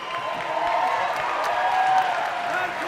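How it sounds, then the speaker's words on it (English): A crowd at a professional boxing match claps steadily after a six-round bout ends in a draw. The dense, continuous applause sits at moderate distance, with a voice over it and faint cheers mixed in. "please put a round of applause together for both the fighters in the center of the ring"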